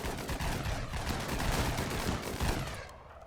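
Rapid, dense gunfire crackles through a RimWorld raid on an underground colony, a continuous burst of overlapping shots lasting a few seconds before tapering off.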